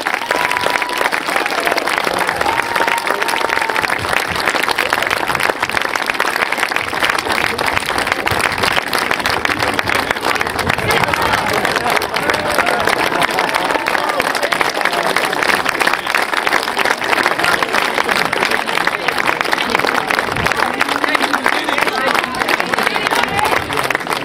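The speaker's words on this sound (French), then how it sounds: "on peut l'applaudir, Patrick Guérand-Hermès" Crowd applauding at the trophy presentation of a European polo championship final, continuous dense clapping from a large outdoor audience with a voice speaking over it throughout.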